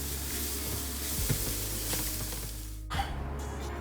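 Mushrooms and red onion sautéing in a pan for a Beef Wellington filling, a steady low sizzle with a few soft stirring scrapes, close and fairly quiet throughout.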